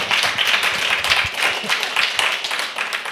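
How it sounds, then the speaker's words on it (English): An audience at a policy brief launch on agroforestry in Ukraine gives a round of applause, steady moderately loud clapping from many hands lasting the whole few seconds. "Round of applause, please, for Samuel."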